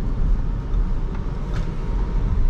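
An Audi e-Tron S, a three-motor 2.6-ton electric luxury SUV, accelerates with a steady, loud low cabin rumble and road noise from inside the car, with no talking.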